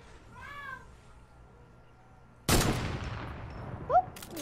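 Fortnite gunfire: a sudden loud burst of shots with a decaying noisy tail, preceded by a cat meowing softly nearby, and a second meow right after the shots.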